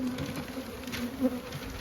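Honeybees at a commercial hive in Texas give off a dense, steady buzzing hum with no voices, close and continuous, while beekeepers prepare for an arctic blast.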